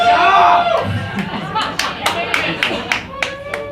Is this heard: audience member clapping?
yes